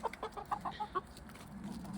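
Chickens cluck on a snowy, icy farm in sub-zero cold. A quick run of about seven faint, close clucks comes in the first second, then low background noise.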